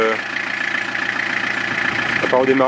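A car engine idling steadily just after starting, after a week without running, a continuous low hum heard under someone speaking French.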